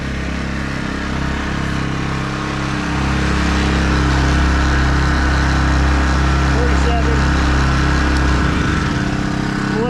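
A yellow portable generator runs nearby with a steady, loud engine drone and a constant low hum. Someone talks over it throughout.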